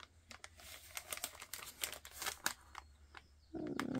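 Paper card folded back over by hand while card-making, a run of close, quiet crinkles and crisp creasing taps, ending in a brief louder rustle.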